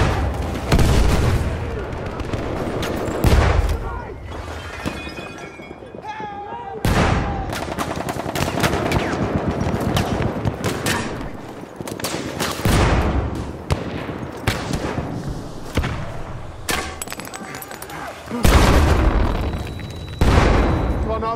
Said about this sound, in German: Hier ist die Granate!